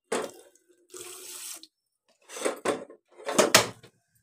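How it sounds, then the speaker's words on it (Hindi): Water pours from a tap in several short bursts to make sugar syrup for laddu in a home kitchen, with clear splashing gushes separated by silent gaps. "थोड़ा सा पानी डालूँगी, ज़्यादा पानी नहीं, थोड़ा सा"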